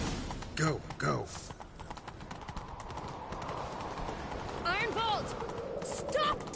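Rapid clip-clop of galloping horse hooves in The Witcher 3: Wild Hunt, steady and close, with brief voices calling out over the rhythm.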